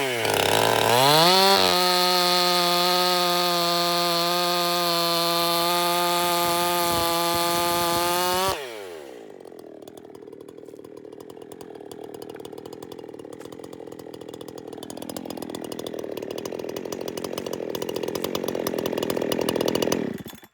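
A chainsaw fitted with a new chain revs high and steady, then bites into hardwood, its whine dropping into a rough, gritty cutting roar that swells as the cut goes on.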